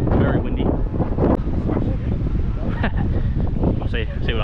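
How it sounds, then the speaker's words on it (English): Strong wind buffets the microphone at a cricket match in a steady, roaring rush with gusty swells throughout, loud and close. "Very windy."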